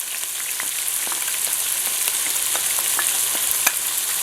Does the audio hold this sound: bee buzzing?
no